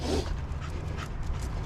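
Buddy the dog pants steadily and close by during an outdoor walk, with soft rhythmic breaths over a constant outdoor background of wind and traffic noise.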